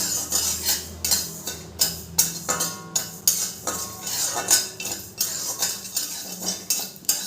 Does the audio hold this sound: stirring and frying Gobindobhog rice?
yes